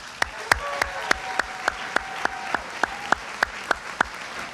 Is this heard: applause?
yes